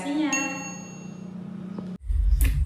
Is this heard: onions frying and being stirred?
no